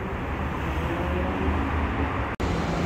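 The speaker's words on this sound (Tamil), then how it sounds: "சாரி ட்ராம் வந்துருச்சு." A tram pulling in at a Dubai stop, a steady rumbling roar of the approaching vehicle that holds loud and even, with a sudden brief drop near the end.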